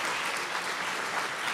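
Sustained applause from a conference audience at a tech summit, dense and steady throughout with no gaps, loud and close.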